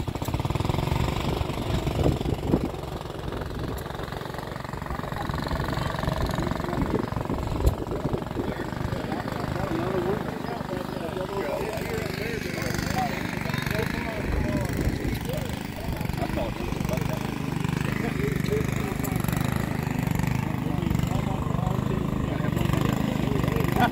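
A Gibson lever-steer tractor with a big Wisconsin engine runs at a tractor show in Bushnell, Illinois, giving a steady, rough, throbbing engine rumble that continues under nearby talking throughout.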